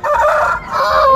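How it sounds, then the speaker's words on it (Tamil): A rooster crows loudly and close at a poultry market, one short two-part cock-a-doodle call. "சூப்பரா இருக்கு சேவல்"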